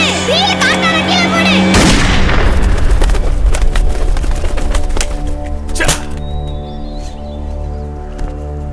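A gun fires in a Tamil movie scene with one loud, sharp bang that rings out, followed a few seconds later by another crisp crack over a background of lingering music.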